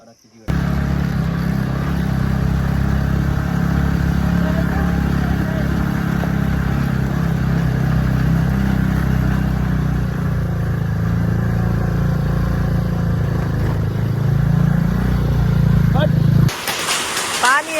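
A motorcycle ridden on a road toward Halesi drones steadily for most of the stretch, a constant mid-pitched engine rumble with wind and road noise, ending with an abrupt burst of louder noise.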